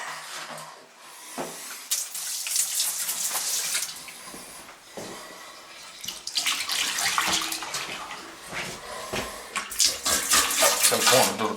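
Water from a household faucet, with the sprayer removed, runs in a steady broadband rush into a bathroom sink while a house on a well pump is being winterized. The flow lasts throughout, with a few brief breaks and clatters.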